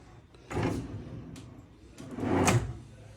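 A handleless kitchen cabinet drawer in an Istanbul kitchen, full-extension with a soft-close stopper mechanism, slides twice, with a smooth rolling glide followed by a soft damped stop, each pass clear and close.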